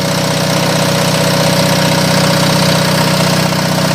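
Close, steady idle of an Onan diesel generator: a loud, unbroken engine hum with faint knocking and vibration throughout, no talking.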